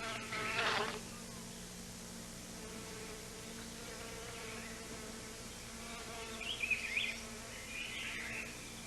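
A bee drones faintly in the distance while visiting orchid flowers, its quiet hum swelling briefly near the start and again about two-thirds through, with no voices heard.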